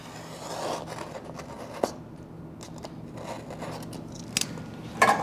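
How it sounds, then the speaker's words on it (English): Blade scoring overlaminate film on an idler bar of a laminator, cutting only the film and not the liner, with soft scraping and crisp slicing sounds and a few sharp clicks near the end. "we're going to go take our blade, and again we're going to score it on this idler bar and just cutting the film, not the liner"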